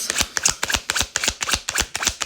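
Tarot cards being shuffled by hand, a close, crisp series of rapid papery riffles and slaps in a steady rhythm, with no talking.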